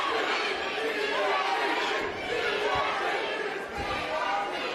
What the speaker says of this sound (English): Here you hear the DFG crowd getting loud.